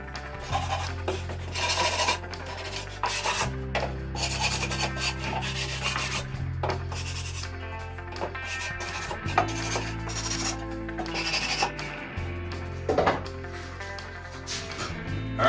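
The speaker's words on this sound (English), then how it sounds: "use a little bit of sandpaper to soften all the edges" Sandpaper rubs back and forth along the edges of a wooden picket harvest crate, a continuous rasping scrape in steady strokes with a few brief pauses, close and fairly loud.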